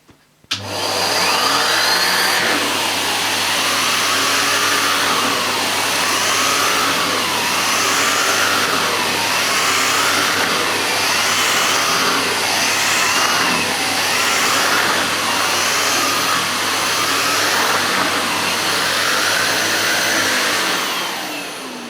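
Numatic Harry vacuum cleaner running for pet hair cleaning: a loud steady motor whine with a low hum, rising and falling rhythmically as it is pushed back and forth, continuous and close, with no talking.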